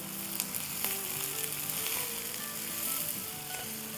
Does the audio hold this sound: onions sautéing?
yes